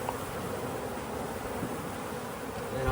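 Roughly 300 honey bees buzz inside a cup holding water and dish soap, a dense, continuous droning hum at steady, fairly loud level with no speech.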